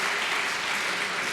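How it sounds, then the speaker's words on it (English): Audience applause at a public meeting, a dense, steady wash of many hands clapping at once, loud and unbroken for the whole moment. "I know people are clapping."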